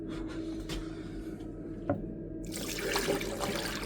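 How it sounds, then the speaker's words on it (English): Water pours steadily down into a toilet being checked for leaks after fresh silicone sealing, a low continuous rush that swells into a louder broadband gush toward the end, with a faint knock partway through. "We'll get a good amount of water down this. We'll also flush it a few times"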